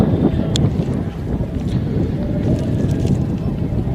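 Steady wind buffets the microphone at a night high school football game, a rough, continuous low rumble with a few faint distant clicks and noises scattered over it.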